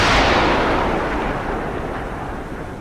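Torpedo launch from a submarine in the naval combat game Cold Waters: one loud, broadband whooshing blast that swells at once, then slowly fades into a lingering rumble.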